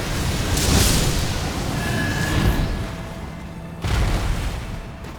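A fire spell in Elden Ring bursts with a broad roaring blast covering a wide area, followed by a second rushing explosion near the end, loud and dense with game noise.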